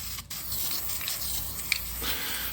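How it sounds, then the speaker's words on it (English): Steady close abrasive rubbing of a sanding block across primer on a car body, a continuous raspy scrape with a brief pause near the start, no voices. "we are block sanding primer today"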